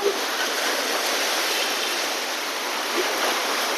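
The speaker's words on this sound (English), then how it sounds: "here is the ocean. I'm here in the ocean." Ocean waves at a beach in Real, Quezon Province, a steady broadband wash of surf heard close and fairly loud, continuous throughout with no talk.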